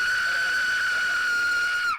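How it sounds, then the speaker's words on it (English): An Aztec death whistle is blown in one sustained, shrill, piercing tone that holds steady and loud for about two seconds before cutting off abruptly, with no other sound. "The Aztec death whistle."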